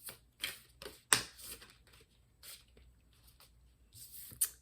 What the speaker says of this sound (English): we're going to keep shuffling